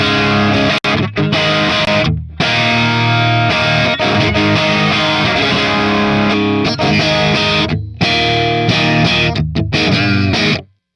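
Distorted electric guitar through a modeled Marshall 1959 SLP Plexi Reissue amp, bright switch off, cranked, with chunky chords and riffs and brief pauses between phrases, loud and upfront.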